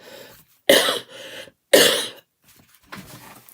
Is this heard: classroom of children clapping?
no